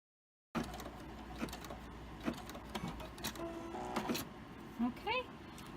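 A sewing machine stitches reverse appliqué with a steady, low mechanical whir and light ticking, joined near the end by a faint voice.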